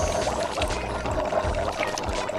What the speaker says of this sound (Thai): มันเทน้ำยาใส่พินแล้วมันก็ดื่มในพินเลยนะท่านผู้ชม